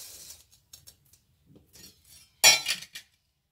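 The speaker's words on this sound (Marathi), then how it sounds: "त्यासाठी आपण ही जी 1 किलो साखर घेतलेली आहे ही साखर आपण पातेल्यात टाकणार आहोत" A kilogram of sugar is tipped into a cooking pot to make syrup for khoa gulab jamun. A short, loud rushing pour with light clinks comes after a few faint kitchen clatters.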